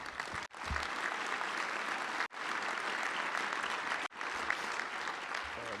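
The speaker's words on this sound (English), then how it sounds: "Let's give them another round of applause for their efforts." A Touchdown Club luncheon crowd gives inductees a sustained round of applause, a thick, even wash of clapping that runs nearly unbroken for the whole stretch.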